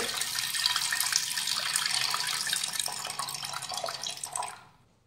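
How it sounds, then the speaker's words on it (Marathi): Water pours from a vessel onto washed lentils in a pressure cooker pot, a steady close splashing gush that fades out near the end, with no talking. "तर त्यामध्ये घालूयात पाणी।"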